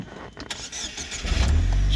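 A used car with cruise control cranks briefly and its engine fires up, settling into a low, steady idle close by.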